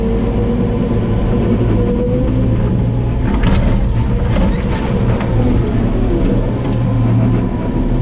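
A farm tractor engine runs loud and close in a straw-gathering field at harvest time, a dense continuous rumble with some rattling and clanking over it.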